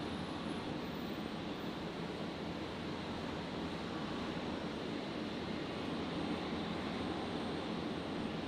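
A Jetstar airliner arriving on runway 19 left at Brisbane Airport at night, a steady, distant broadband engine roar holding at an even level throughout with no other sounds.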